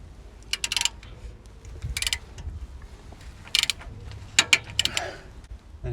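Torque wrench clicking and ratcheting as it tightens ball joint bolts on a 3rd-generation Toyota 4Runner during CV axle work, heard as several short, close bursts of metallic clicks separated by quieter pauses.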